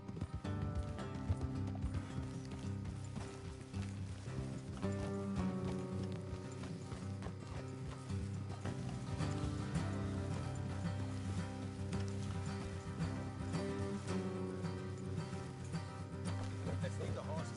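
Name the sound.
horses galloping, video game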